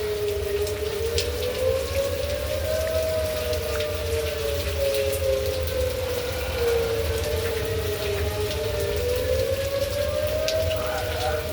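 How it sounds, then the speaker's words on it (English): Tornado warning sirens wail in slow rising and falling sweeps across town during steady rain, the siren tone sustained over a constant patter of falling water. "We're having tornado sirens going off."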